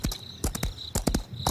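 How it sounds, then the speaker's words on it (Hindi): Cartoon sound effect of horse hooves clip-clopping, a quick uneven run of sharp, close knocks with no voices over them. "घोड़ा उसके नीचे से गुजरा"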